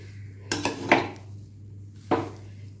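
A spoon mixes cooked jeera samba rice vegetable biryani in a pot, making three distinct metallic clinks and scrapes against the vessel over a faint background hum, with no talking.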